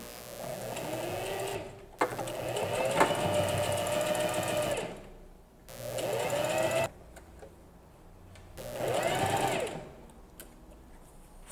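A sewing machine stitches a ruffle onto a cotton dish towel, running in steady whirring bursts with short pauses between them, loud and close.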